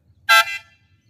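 A single short, piercing blast from an air horn fitted to a Volkswagen Logus sounds loud and close, then cuts off and leaves a faint echo trailing behind it.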